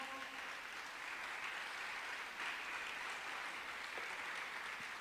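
A church congregation claps during a Spanish-language sermon, a faint, steady patter of many hands with no voices, lasting the full few seconds.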